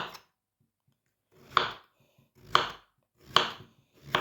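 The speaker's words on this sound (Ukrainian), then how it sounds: "розрізаю його так по довжині навпіл і нарізаю приблизно такими шматочками десь по сантиметру" A knife chops through zucchini on a board, three crisp strokes spaced about a second apart, close and fairly quiet with silence between.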